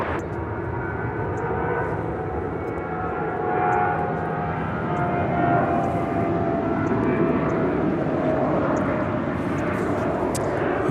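An airliner takes off from runway 25 Right at Los Angeles International Airport, its engines producing a loud, steady roar that swells and holds for the whole stretch, with no voices over it.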